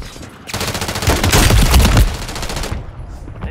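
Gunfire in Call of Duty, a loud close burst of rapid shots lasting a couple of seconds, alone without talk, then trailing off into quiet.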